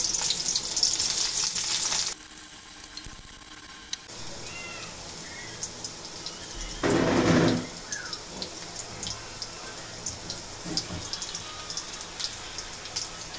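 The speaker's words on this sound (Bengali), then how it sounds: "এখন পেঁয়াজ আর কাঁচা ঝাল একসঙ্গে ভেজে নেব" Onions and green chillies fry together in hot oil with a close, dense sizzle that drops away briefly, then returns and swells into a louder burst midway before settling into a steady crackle.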